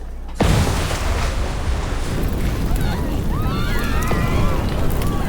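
An explosion sound effect from the video game Love and Deepspace: a sudden loud boom hits after a brief silence, then turns into a sustained roaring rumble with whooshing, wind-like debris noise and a few thin whistling tones.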